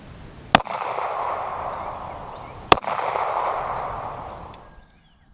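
Two sharp gunshots from 9mm 135 grain jacketed hollow point rounds fired at a 1-inch polyurea slab, spaced about two seconds apart, each a loud crack followed by a ringing outdoor decay.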